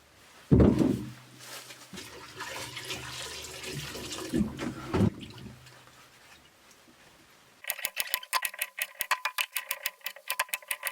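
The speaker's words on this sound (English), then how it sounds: "Have some potatoes from the neighbor's garden. Let's give those a wash." Potatoes from a garden are washed under a running tap, water splashing and rushing in uneven bursts close by, then giving way to a quick rhythmic series of ticking clicks at the end.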